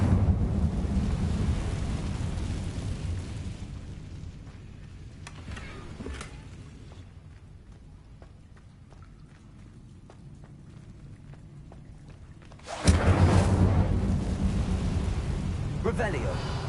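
A fiery whoosh from casting the Incendio spell in the Hogwarts video game, a loud roaring burst near the end after a long rumbling, windy ambience that fades down in the middle.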